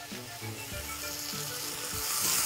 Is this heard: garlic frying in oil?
yes